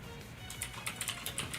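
Quick, light keystrokes on a computer keyboard, a short irregular burst of clicks close to the microphone with no talking.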